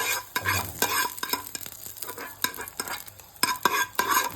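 Mustard seeds and spices for coconut chutney crackle and sizzle in hot oil, with sharp spattering pops and a spoon stirring against the pan, close and loud.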